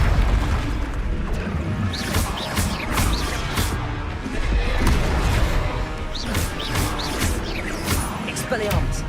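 Booming spell blasts and crashing impacts from Confringo and Bombarda explosion spells in the Hogwarts Legacy video game, repeated bursts over dense game music and effects.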